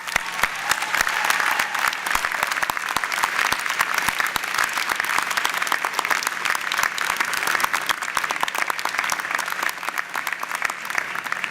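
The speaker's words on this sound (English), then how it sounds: "Let's give them a huge round of applause." A large convocation crowd from the education and management faculties gives a loud, sustained round of applause, a thick, steady roar of many hands clapping close by and holding at full strength throughout.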